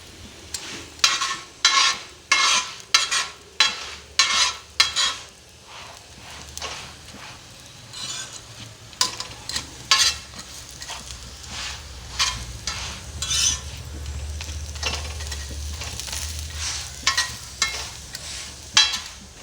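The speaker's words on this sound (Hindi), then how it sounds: "अब हम दूसरी साइड पे भी इसको अच्छे तरीके से घी लगा देंगे।" An egg paratha fries in ghee on a pan, with repeated rhythmic scraping and stirring strokes over a soft sizzle that swells louder in the second half.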